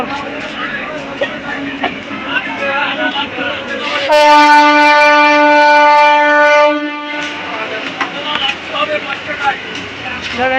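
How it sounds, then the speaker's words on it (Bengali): A train horn sounds loudly and steadily for about three seconds mid-clip as the train leaves a crowded station, surrounded by a busy crowd murmur and station chatter. "ফাইনালি ট্রেনটা চলে গেল, ট্রেনটা এখন।"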